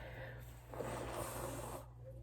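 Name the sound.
blowing nose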